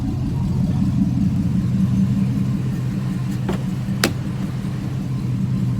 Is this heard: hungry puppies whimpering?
no